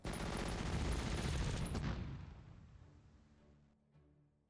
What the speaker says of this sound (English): Ah, artillery in support.